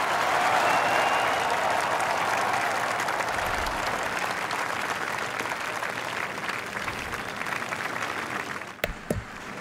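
Crowd at a golf tournament applauding a putt, a dense, loud wash of clapping that holds for several seconds and fades slightly, ending with a couple of sharp knocks.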